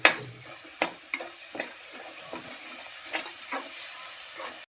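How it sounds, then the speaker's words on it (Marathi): Onion-coconut paste with coriander-cumin powder sautés in a pan while a spoon scrapes and stirs it. A soft sizzle runs throughout, broken by several distinct stirring scrapes. Nobody speaks. "थोडं परतून घेऊया."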